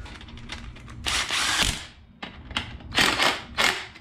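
Power tool bolting a clutch back onto a Coleman CC100X 3 hp engine, loud close bursts of ratcheting, whirring mechanical noise in several short spurts separated by brief pauses.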